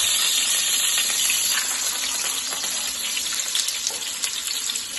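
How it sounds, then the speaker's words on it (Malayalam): Fish pieces for a fish pickle frying in a pan, a steady hiss of sizzling oil held at an even level throughout with small crackles, no talking. "ഇങ്ങനെ ഓരോന്ന് ഓരോന്ന് ഇട്ടിട്ട് ഫ്രൈ ചെയ്തെടുത്തു"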